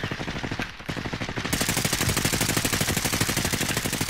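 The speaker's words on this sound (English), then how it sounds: "You getting shot at, Kieran?" Sustained automatic gunfire in Call of Duty Warzone trios, a loud rapid fusillade of shots that grows denser and continuous after a brief lull, with no talking over it.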